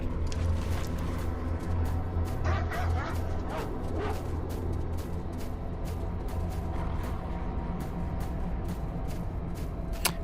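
Dogs barking and yipping in the video game S.T.A.L.K.E.R. Lost Alpha, a burst of rapid aggressive barks and whimpers early on under gunfire-like cracks and a continuous rumbling game soundscape.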